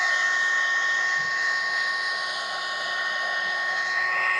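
A heat gun blows steadily while warming the edges of a vinyl overlay on a 2021+ Ford Bronco door handle, a continuous close whirring hiss holding level throughout with no talking.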